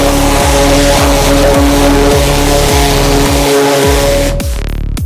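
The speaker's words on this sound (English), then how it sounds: "Now let's wash this vehicle." Loud, continuous close-up motor drone from a high-pressure washer cleaning a 45ft shipping truck, with a steady rhythmic pulsing, then an abrupt break and sputter near the end.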